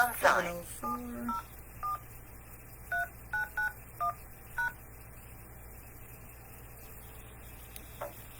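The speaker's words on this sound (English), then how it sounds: "please enter your passcode followed by the pound sign" Telephone keypad tones entering a teleconference passcode: a run of about a dozen short, evenly spaced beeps in irregular groups over a quiet line hiss, fairly faint, with no talk.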